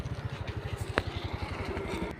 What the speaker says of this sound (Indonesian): biarkan motor lewat dulu